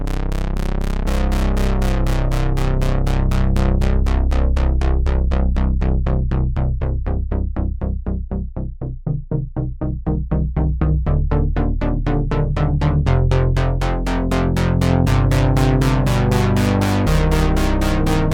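A synthesizer saw-wave patch with unison voices through a ladder filter swept by an LFO plays a fast, steady sequence of rich, buzzing notes whose brightness rises and falls, loud and continuous with no voice.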